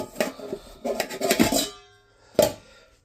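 Vintage camping cookware, a frying pan, kettle and pots, being handled, with bursts of metallic clanking and rattling, a pause, then one sharp clang, close and moderately loud.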